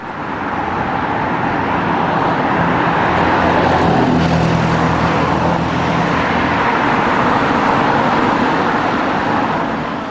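A London double-decker bus pulling away from Potter's Bar, its diesel engine droning steadily under broadband road and traffic rumble, fairly loud and continuous with a mild swell in the middle.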